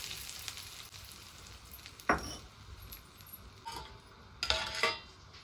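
Hot oil sizzles steadily as green chili and coriander tempering is added, with a couple of sharp crackling bursts as ingredients hit the pan and faint clinks of utensils.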